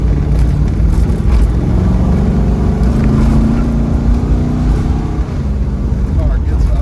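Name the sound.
1968 Plymouth Hemi Road Runner engine revving, driving off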